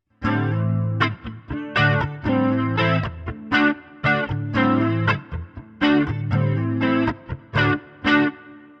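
Heavily distorted electric guitar on a Latitude NW-1915 Goldtop Les Paul-style guitar, neck pickup, in a warm, thick tone, playing rhythmic chord stabs and riffs with brief pauses, loud and upfront, with a chorus wash.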